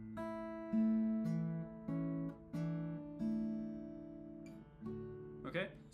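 Acoustic guitar fingerpicking on a walk-down triplet: a string of clearly plucked, ringing notes stepping downward in a steady rhythm, played close and alone, ending with a brief scrape of fingers sliding on the strings.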